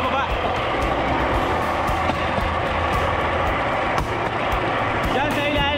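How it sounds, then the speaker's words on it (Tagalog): A train rumbles past up close on the railway tracks, with a steady heavy low roar and rattling clatter throughout, and occasional voices mixed in. "May nakasalubong tayo dito ang tren."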